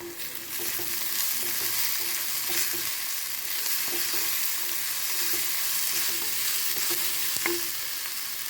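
Mutton brain roast sizzles steadily in a pan with salt added, while a spoon scrapes and taps at regular intervals, close and clear, with no talking.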